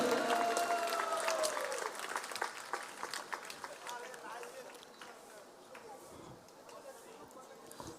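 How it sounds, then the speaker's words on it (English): An audience claps for school children at the Radha Madhava Golden Jubilee Festival, a dense crackling ovation that is loudest at the start and thins gradually over eight seconds, with a voice briefly audible early on. "Let us give a big round of applause for the school children."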